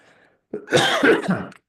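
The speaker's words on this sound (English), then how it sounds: "Starting to cough at the end of a long week of travel." A single close, harsh cough burst with a rough throat-clearing quality, following a brief faint murmur.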